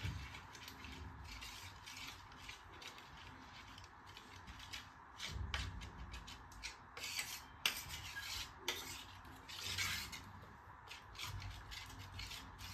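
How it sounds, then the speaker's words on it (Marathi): Atta dough is mixed with red chili powder on a plate, giving close, quiet, irregular rubbing and scraping strokes with occasional small clicks and no talking. "हे सगळं असं मिक्स करून घ्यायचं. मी प्लेटमध्ये घेतलंय"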